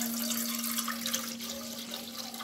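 Milk is poured into a container in a village kitchen as a soft, continuous liquid splash and trickle, fairly quiet and steady for a couple of seconds, with a faint constant tone underneath.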